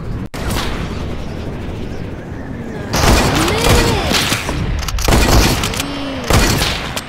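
Gunfire in a mobile video game shooter crackles in loud repeated bursts and booms, with a player talking and exclaiming over the shots.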